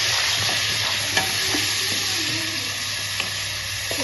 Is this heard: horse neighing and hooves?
no